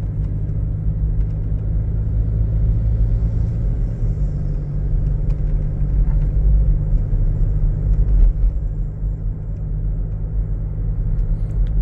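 A Toyota SW4 pickup engine idles steadily at about 1500 rpm, a continuous low rumble with a deep, even drone and no speech over it.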